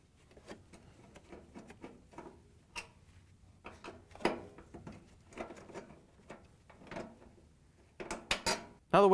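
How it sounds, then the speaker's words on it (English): Phillips screwdriver removing the top-panel screws from a Frigidaire/Electrolux washer, faint scattered metallic ticks and scrapes with irregular clinks, ending in a few louder knocks. "we can use the Phillips screwdriver to take out the 4 screws that hold the top onto the washer"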